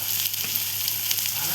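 Onions with turmeric and a pinch of asafoetida sizzle steadily in a hot pan while being stirred, a close, continuous frying crackle with no voices.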